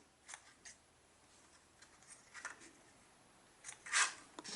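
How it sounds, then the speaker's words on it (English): Scissors snip off excess paper in a quiet craft setting, a handful of crisp, sharp cuts spread apart with the loudest snip near the end, and no voices. "And snip off the excess."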